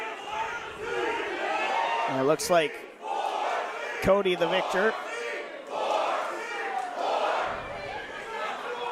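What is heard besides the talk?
wrestling crowd cheering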